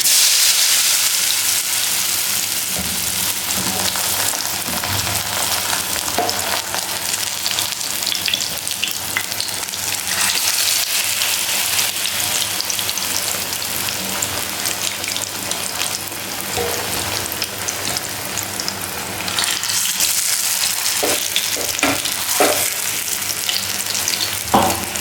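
Eggplant fritters (begun bora) fry in hot oil with a dense, steady sizzle and crackle that runs throughout, punctuated by occasional sharper pops and stirring sounds, close up and with no talking.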